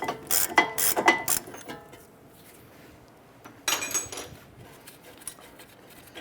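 A ratchet works a brake caliper bracket bolt loose on a 2009-2015 Honda Pilot, giving a few bursts of quick metallic clicking that fade into quiet, then a shorter burst of clicks follows. It is close, with no talking.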